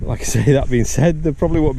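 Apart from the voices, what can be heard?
No everyday noise stands out behind the speech.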